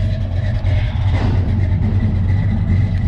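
A passing garbage truck rumbles loudly and continuously nearby, its heavy low engine drone steady throughout with a brief swell of noise around the middle, mixed with the idling of a 1970 Chevrolet C10 pickup.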